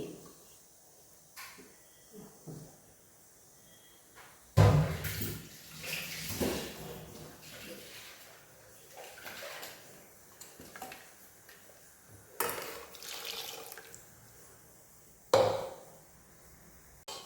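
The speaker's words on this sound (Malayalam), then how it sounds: "മിക്സിയുടെ ജാറൊന്ന് കഴുകി അതിൻ്റെ വെള്ളമൊന്ന് ഒഴിച്ച്" Rinse water from a washed mixer jar is poured out in a home kitchen while foxtail millet idli batter is being prepared; a few splashy bursts of pouring stand out against quiet background, with the loudest around the middle.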